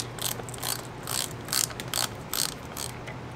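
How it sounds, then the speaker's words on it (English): A ratchet clicks in short bursts, about eight quick, close pulls, while bolts are removed from the oil pump block of a seized WaveRunner during a rebuild, with a low hum in the background. "remove these two bolts, remove this."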